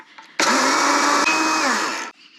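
An electric grinder whirs loudly for about two seconds as it grinds hard ingredients for gluten-free sandwich bread, with a steady high-pitched motor whine that starts abruptly and cuts off at the end.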